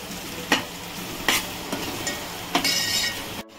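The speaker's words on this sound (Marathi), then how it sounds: "बारीक चिरलेला लसूण होता तो पण वरती बघा अशा प्रकारे घालून घ्यायचं आहे पूर्ण आणि मिक्स करायचं आहे" Finely chopped garlic and onion stirred in a frying pan, a continuous hiss of sizzling broken by four distinct scraping strokes of the spoon, close and loud.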